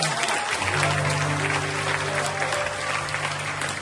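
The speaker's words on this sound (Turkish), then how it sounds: "Müthiş bir alkışla." Steady applause from a live concert crowd fills the whole stretch, with a low sustained musical tone running underneath.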